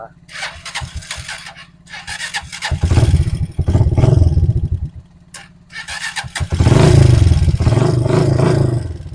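Motorcycle electric starter cranking the engine, two loud whirring bursts of several seconds each separated by short pauses, close up, with someone talking around them.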